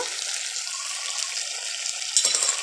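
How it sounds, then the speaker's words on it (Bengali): Water poured from a container into a pan of potol chingri curry (pointed gourd and prawn) during cooking, a steady close splashing trickle for a couple of seconds that ends with a brief louder splash. "এখন আমি সামান্য একটু জল দিয়ে দেবো"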